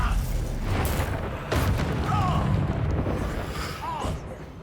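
A Bombarda blasting spell goes off in Hogwarts Legacy, booming low and heavy amid other rapid spell effects and rumbling impacts, with a voice calling out over the battle noise.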